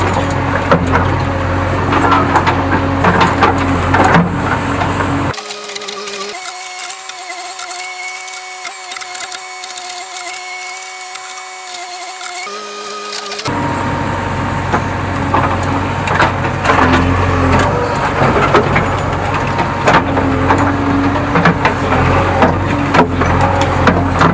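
A JCB 3DX backhoe works a pipeline trench in a watermelon field, its loud diesel engine and scraping, crunching digging running steadily near at hand, with a few seconds of quieter steady engine hum in the middle.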